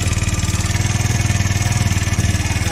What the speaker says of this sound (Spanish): prende la moto.